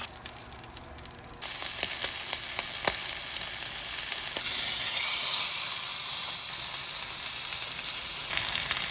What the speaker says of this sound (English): Time to cook the steak. For 2 minutes on this side.